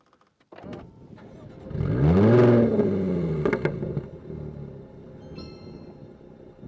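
A 2014 Jaguar F-Type 3.0 V6 S engine starts, then revs sharply to a loud rising exhaust roar before settling into a deep, rumbling idle, heard close up.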